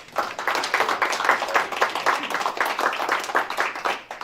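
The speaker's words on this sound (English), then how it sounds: "Let's give her a round of applause." A round of applause at a county board meeting, steady dense clapping from a modest group filling the full few seconds without talk.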